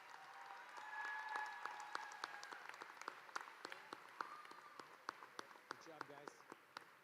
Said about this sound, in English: Let's go ahead and give them a round of applause.